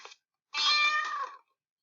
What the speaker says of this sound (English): It sounded like a kitten.